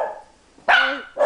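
A puppy gives two sharp, loud barks close by, the first starting about halfway through and the second following half a second later, with a faint whine before them.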